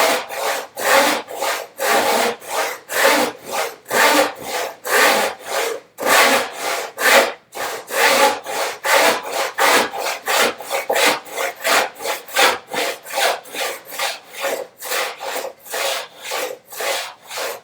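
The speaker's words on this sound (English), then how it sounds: "I'm really lifting off this saw to get it started." A hand saw cuts wood joinery for a bookcase in even back-and-forth strokes, about two per second, each a loud rasping scrape with brief gaps between, steady and close throughout.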